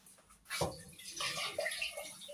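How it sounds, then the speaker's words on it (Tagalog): A small splash of water is poured into a pot of leftover cooked rice, a brief soft pouring and sloshing sound that starts after a short pause and trails off quietly. "Konti lang tubig yung nilagay ko."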